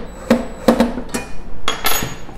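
A wrench tightens a size 10 nut and washer while a Laguna SS|14 spindle sander's legs are assembled, giving about five sharp metallic clanks and ringing taps, close and loud, with no talking.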